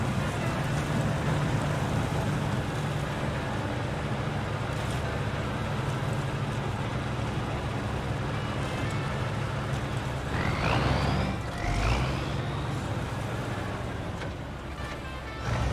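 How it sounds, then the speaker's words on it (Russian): A truck engine in the video game SnowRunner drones steadily like a tractor, a loud continuous rumbling hum with a couple of rising revs near the end. "Такое ощущение, что движок вот как раз таки от трактора стоит. Звуки такие же."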